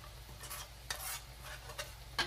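Quiet scraping strokes of a spoon stirring pancit chami noodles with carrots and celery in a pot, several soft swishes over a faint background sizzle, ending with a brighter clink.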